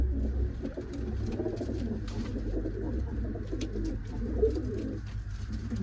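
Pigeons in a loft cooing softly and repeatedly, low murmuring calls overlapping at moderate distance over a faint background hum, with no talk.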